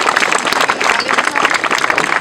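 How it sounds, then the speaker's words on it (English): An audience applauds at an Angiosarcoma Awareness charity race event in 2014, with steady, dense clapping that stays loud and continuous throughout, with no voices standing out. "let's give a good round of applause for all those"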